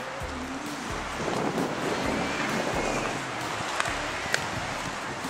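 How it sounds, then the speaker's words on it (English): Wind gusts buffet steadily and roar across the microphone, with a couple of faint clicks. "Ooh, it's getting kind of windy."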